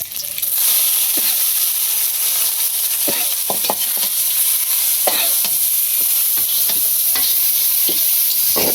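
Garlic sizzles steadily in hot oil in a pan, a loud continuous frying hiss broken by irregular scraping knocks of a spoon stirring it, with no voices.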